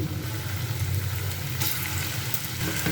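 Cabbage pakora balls lowered into hot mustard oil, producing a dense, continuous frying hiss close by, with a brief sharper burst of bubbling partway through.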